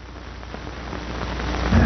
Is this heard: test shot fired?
no